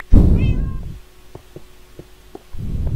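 A cat in the Minecraft video game meows, a short clear cry near the start that rises above loud rumbling game noise, followed by a quieter stretch of soft footstep-like taps.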